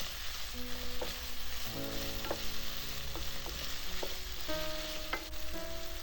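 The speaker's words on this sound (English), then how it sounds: "Add the red onion in." Red onion stir-frying with meat for Chinese noodles, a close, steady sizzle with scattered clinks and scrapes of the utensil against the pan, no voices.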